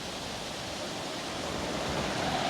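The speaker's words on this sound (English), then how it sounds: "this waterfall is really flowing after 3 days of rainfall" A waterfall in Hardscrabble Canyon, Custer County, Colorado, running strong after three days of rain, a steady broad rushing roar of falling water, constant and fairly close with no other sounds.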